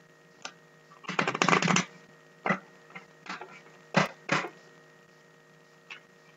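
A deck of tarot cards is shuffled up close, with a longer riffle burst followed by several shorter, separate flicks and snaps scattered across a quiet background.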